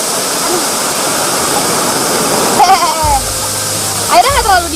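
A waterfall roars continuously as children play and swim in it, with voices and high calls rising over the rushing water.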